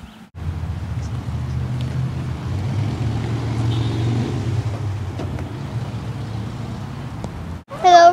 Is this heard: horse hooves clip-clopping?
no